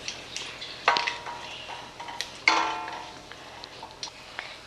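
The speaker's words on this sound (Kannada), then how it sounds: "ಈಗ ಸ್ವಲ್ಪ ಗೋಡಂಬಿ ಹಾಕೋತಾ ಇದ್ದೀನಿ." Cashews go into hot oil with crackling mustard and cumin seeds for a vegetable sabudana upma. A soft, faint sizzle carries under a few sharp pops and clicks from the pan.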